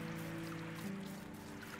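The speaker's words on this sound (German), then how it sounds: "Hier ist der Wasserfall." A waterfall in the medieval survival game Medieval Dynasty gives a steady, faint rushing and trickling wash of water with no breaks, heard alone over a low constant hum.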